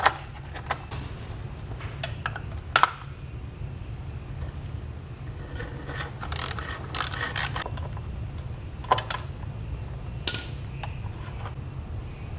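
A ratchet with an oil filter socket works on a Harley-Davidson touring motorcycle's oil filter, giving scattered metallic clicks and clinks over a low background hum, with no talk.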